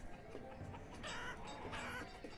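Chickens clucking in the medieval city-building game Banished, a steady bed of soft farmyard clucks with a couple of brighter calls rising out of the mix, moderately quiet and with no one talking.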